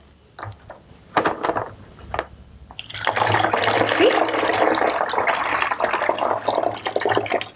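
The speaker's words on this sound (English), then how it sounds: "You can use this to pour the water." Water poured through a funnel, starting after a few soft knocks and handling sounds, then a steady, close, continuous trickling splash that holds to the end, with a brief spoken word early on.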